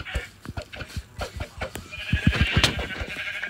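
Sheep bleat in a game world, a few short calls in quick succession, fairly close and clear, with some background play noise around them.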